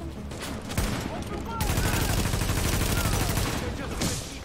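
Rapid gunfire in Tom Clancy's The Division, a sustained loud burst of automatic shots with scattered earlier reports, heard amid game sounds and a talking voice.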